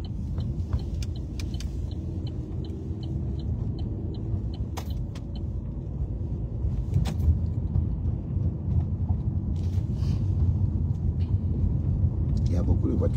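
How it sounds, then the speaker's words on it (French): Heavy road traffic rumbling past, a continuous low roar of many cars with occasional sharper clicks and knocks, steady and fairly close, under people talking in French. "Il y a beaucoup de voitures derrière."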